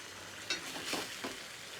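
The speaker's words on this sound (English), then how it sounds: "Now we're going to cook this gently down so the tomatoes can cook as well." Rogan gosht meat curry with tomatoes cooks gently in a pan, giving a soft, low, continuous sizzle with a few faint stirring bursts.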